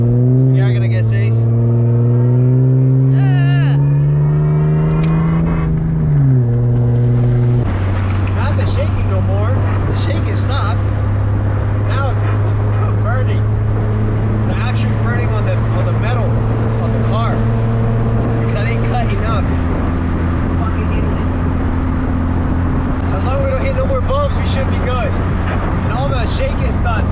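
A BMW E36 M3 is driven with its engine droning loudly inside the cabin and revving up through gear changes, while someone talks over it; no clear grinding from the fender rubbing the wheel stands out.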